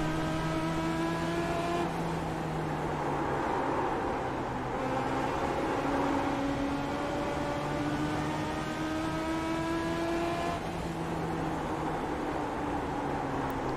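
Sim race car engine from iRacing running the final lap of an eNASCAR Ignite Series event at South Boston, a steady loud drone with rising and falling harmonic pitch as it shifts and accelerates, alone without talk.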